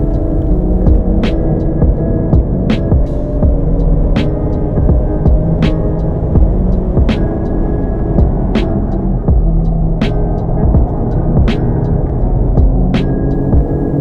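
Car on Continental Extreme Contact Force tires driven hard around track corners with a passenger aboard: a loud, steady droning engine hum with a rhythmic throb and regular sharp clicks throughout.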